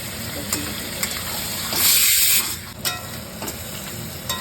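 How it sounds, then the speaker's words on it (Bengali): Meat seasoned with turmeric and salt frying in hot oil, a continuous close sizzle and hiss that swells briefly in the middle, with occasional stirring clatter and no talking. "এবার এগুলোকে আমি একটু ভেজে নেব।"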